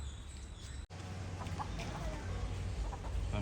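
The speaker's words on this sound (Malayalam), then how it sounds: "നമ്മളെ തോട്ടത്തിൽ കൂടെ ഇപ്പോൾ ഫുള്ള് കോഴികളായിട്ടോ." Chickens cluck in a home garden under a steady outdoor hum, with soft, scattered clucks throughout and a brief dropout near the start.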